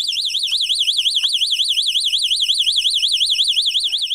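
A loud, piercing electronic alarm warbles continuously in a rapid up-and-down sweep, shrill and close, with no voices and only faint background noise.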